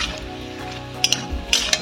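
Drumstick (sajne) pieces drop into a pan of frying spices for a fish curry with potatoes: a steady close sizzle with a few sharp metallic clinks of utensil against pan.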